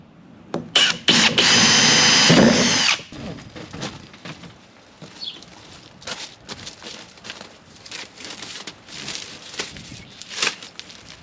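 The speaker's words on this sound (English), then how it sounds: "I'm gonna have to drill 2 holes here, there, and then right here" A power drill whines loudly for about two seconds near the start while drilling holes to fasten something to posts in a high tunnel, then stops, leaving quieter handling clicks and knocks.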